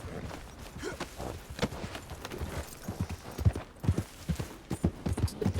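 Horse hooves clip-clop steadily in a video game as a rider moves along, the rhythmic thuds fairly close and moderately loud over a busy game soundscape.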